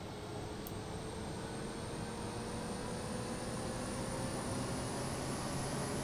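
Engine start of a Flight Factor A320 with IAE engines in X-Plane 11, steady broad whooshing roar with a faint rising whine, continuous and fairly quiet throughout.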